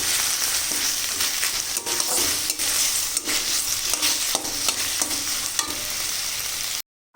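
Chickpeas with ginger and cumin fry in hot oil, giving a dense, continuous sizzle broken by scraping stirs, close and loud until it cuts off abruptly.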